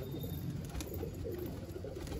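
Low, soft cooing of a high-flying pigeon, faint against a steady rumbling background.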